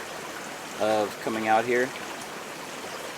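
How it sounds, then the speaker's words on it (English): A creek in the Alabama Hills of California flows with a steady, soft rushing hiss, heard under a man's brief speech. "The creek has definitely been the biggest plus side"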